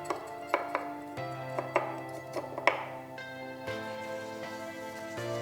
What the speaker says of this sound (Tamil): ஆனால் இந்த வாலோட கடைசியை மட்டும் கட் பண்ணுறேன்